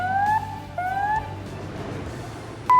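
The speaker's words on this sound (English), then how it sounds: "First alarm, general alarm." A general alarm at an onshore gas processing plant sounds in rising, whooping tones: two sweeping upward wails about half a second each, then quiet, then a steady high tone begins at the end.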